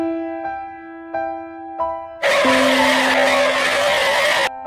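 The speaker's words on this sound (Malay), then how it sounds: "Hati-hati, ada kereta tu." A car in the Roblox game Brookhaven skids with a loud, sustained tire squeal that cuts in sharply after several short, evenly spaced synthetic tones and then stops abruptly.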